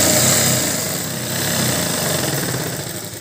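A sewing machine stitching the folded hem of a blouse runs as a loud, steady, close mechanical whir with a fast chattering rhythm, continuing without pause and with no voices.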